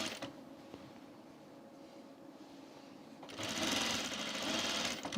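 A sewing machine stitches a men's plaid button-up shirt, a quiet whirring run that pauses briefly, then picks up in a louder, faster burst of mechanical chatter near the end.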